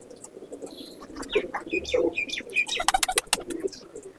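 Malwai pigeons coo softly in a loft, with several overlapping low coos and occasional wing flutters and rustles, fairly close and moderate in level.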